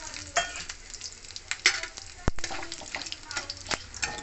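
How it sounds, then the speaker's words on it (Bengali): Whole cumin, bay leaf, cinnamon and green cardamom crackle and sizzle in hot oil left from frying potatoes, with sharp pops and bursts over a frying hiss, close and fairly loud, alongside some talking. "আলু তুলে নেওয়ার পরে ওই তেলেতে আমি জিরে, তেজপাতা, দালচিনি, ছোটো এলাচ দিয়ে দেবো।"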